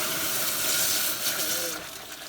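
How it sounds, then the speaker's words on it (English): Hot water gushes and splashes steadily into a pan, a bright hissing pour that eases off toward the end. "So just fill a pan up with hot water, boiling water"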